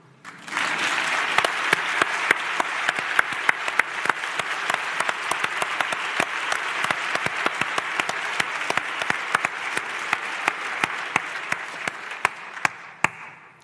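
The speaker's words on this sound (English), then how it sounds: "I would ask all the women in this room to applaud the men" Women in an audience at an indoor conversation event applaud the men present: a steady round of clapping that starts up quickly, holds evenly for about twelve seconds with sharp individual claps standing out, then stops abruptly.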